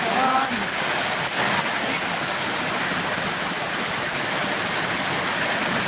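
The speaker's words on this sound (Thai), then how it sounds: "ฝนตกนะ" Steady, heavy rain pours down in a dense, constant hiss that fills the whole scene, in Surin, Thailand.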